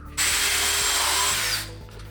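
Power drill driving screws into wood, toe screwing while building a large aquarium stand; one loud, steady whirring burst of about a second and a half winding down at the end, close by, with no talk.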